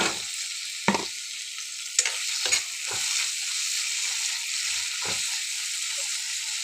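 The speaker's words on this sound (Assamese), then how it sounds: "এতিয়া মই মাছখিনি বহাই দিলোঁ।" Turmeric-coated fish pieces fry in oil in a home kitchen, giving a steady, bright sizzle that runs throughout, with a few sharp clatters and stirring knocks.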